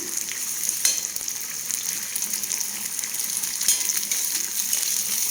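Curry leaves frying in hot oil for a fish curry, a bright, crackling sizzle that stays fairly loud and steady, with a couple of brief pops.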